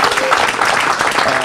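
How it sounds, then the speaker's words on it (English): A business roundtable audience applauds loudly and continuously, honoring a county fire department. The clapping is close and dense, with faint voices mixed in. "I think we owe them a resounding round of applause."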